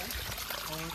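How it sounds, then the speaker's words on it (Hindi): Water pours out of the rock on a mountain slope at Shisupal Parvat in Chhattisgarh, a loud steady gush heard close up. Someone talks over the flowing water. "देखो यहाँ से पानी निकल रहा है"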